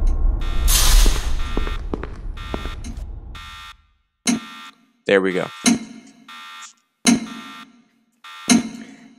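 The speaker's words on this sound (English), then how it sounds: "the alarm is still going off" An alarm sounds in the Roblox horror game Forgotten Memories, a loud buzzing wail that fades out, followed by a series of short, sharp beeping bursts, with a voice speaking briefly.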